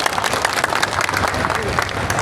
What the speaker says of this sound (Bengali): আমরা করতালির মধ্য দিয়ে তাদেরকে সমাবর্ধন করতে চাই।